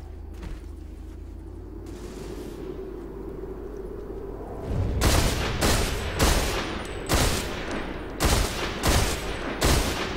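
Gunfire in a 6v6 video game match, shots fired through grates: a quiet rumbling lead-in, then loud bursts of close shots in rapid clusters.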